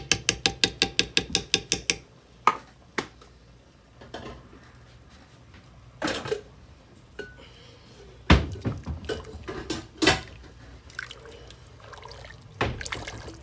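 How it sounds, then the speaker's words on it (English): Dishes being lifted off a kitchen dish rack and put away: clattering clinks and knocks of plates and utensils at irregular intervals, a quick rattling burst at the start, close by in a home kitchen with no talking. "He's putting up some dishes off the dish rack for me."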